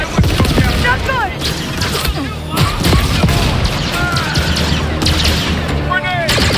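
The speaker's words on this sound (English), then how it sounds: "Firing grenade round!" Chaotic firefight in the Star Wars Outlaws video game: blaster shots and a heavy grenade-round explosion crackle and boom under excited in-game voices, loud and dense throughout.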